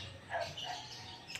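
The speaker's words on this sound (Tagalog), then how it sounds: "huni ng ibon" Faint bird chirps, a few short tweets scattered over a quiet outdoor hum with no talking.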